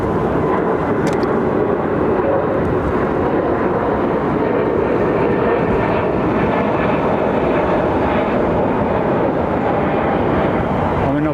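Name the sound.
Airbus A320neo airliner engines at London Heathrow Airport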